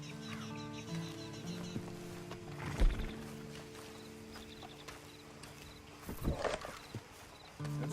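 Horse hooves clip-clop in Red Dead Online, a few scattered hoof knocks with a louder thump near the middle and another cluster later, set against steady low game ambience and music.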